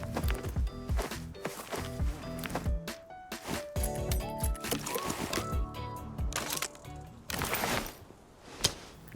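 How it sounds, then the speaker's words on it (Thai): In the shooter game Arena Breakout, an enemy's footsteps sound somewhere ahead as a run of soft, uneven steps mixed with scattered clicks and clatter. "แล้วมีเสียงเท้า คน อยู่ด้านหน้าครับ"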